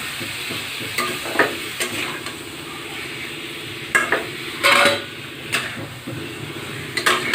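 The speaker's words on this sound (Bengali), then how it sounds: "দেখুন যে মশলাগুলো আমি রেখেছিলাম এর মধ্যে ঢেলে দেবো। ঢেলে এইভাবে নাড়াচাড়া করে নেব।" Spices tipped into a pan of chicken korma crackle in a moderate sizzle, and a spoon stirs them with intermittent scraping strokes and a few sharper knocks against the pan.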